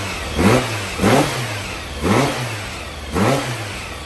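An air-cooled VW engine with a dual quiet pack exhaust runs nearby, revving in four evenly spaced swells over a steady low rumble, with no talking.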